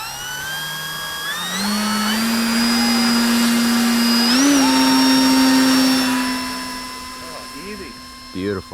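The electric motor of a 2200mm Avios Kobuz sports-scale aerobatic EPO glider with flaps spools up to a steady half to three-quarter throttle whine, holds close and loud, then winds down.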